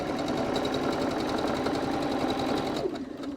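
A 3-in-1 multi-function sewing machine chain-pieces fabric for a cylindrical case, running in a fast, steady mechanical whir with regular stitching ticks that stop abruptly near the end, close and alone.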